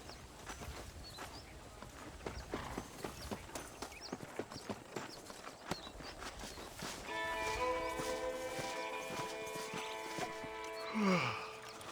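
Horse hooves clip-clop steadily in Red Dead Redemption, a dense run of evenly spaced hoofbeats throughout, with a sustained tonal sound entering in the second half.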